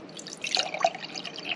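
Coffee pours slowly from the carafe of a Hamilton Beach 12-cup programmable coffee maker, making a soft, close trickle with light splashing.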